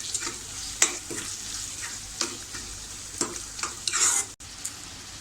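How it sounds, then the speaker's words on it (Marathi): Ginger garlic paste sautéing in a pan for chicken lapeta makes a soft, steady sizzle, broken by repeated scraping stirs of a spoon and a short clatter near the end. "ती सुद्धा थोडी परतून घेऊया।"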